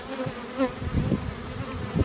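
Honeybees buzz steadily at an open hive during an inspection, a close, dense hum with individual bees droning past.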